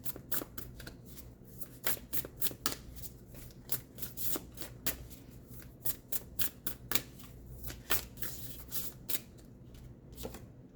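Tarot cards shuffled by hand in a quiet room, a long run of crisp riffling slaps and flutters repeating in quick, uneven bursts close to the listener, with no talking.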